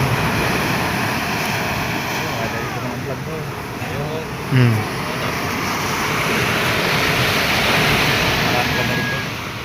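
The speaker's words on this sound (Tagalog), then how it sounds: "Malakas ng alon." Strong ocean waves roar steadily as a broad, constant wash of noise, with a brief louder burst midway and faint tonal sounds drifting through.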